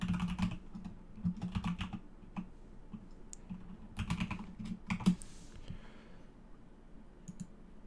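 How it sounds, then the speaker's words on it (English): Typing a spending password on a computer keyboard, quiet clusters of close key clicks with short pauses and a sharper tap near the end. "you have to type in your spending password"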